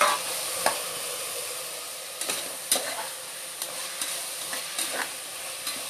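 Vegetables sauté with tomato paste in a pan for a vegetable kurma, a steady bright sizzle running throughout with repeated clinks and scrapes of stirring at close range.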